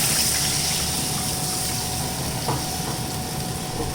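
Water poured into a pan for making rava upma, a steady gushing, hissing pour that runs continuously at moderate level.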